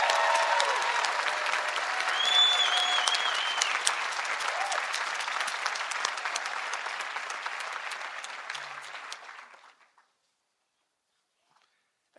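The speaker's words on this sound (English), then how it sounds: "Please join me applauding the faculty and staff." Audience at the 2017 Vermont Law School commencement applauds the faculty and staff, a dense, steady wash of clapping that holds for about nine seconds before fading abruptly into near silence.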